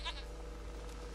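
A goat bleats once, brief and fairly clear, over a steady low game-world hum in The Witcher 3: Wild Hunt.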